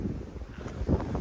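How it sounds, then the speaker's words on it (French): Gusty wind buffets the microphone in a steady low rumble, swelling louder near the end with no voices. "Il y a un peu de vent."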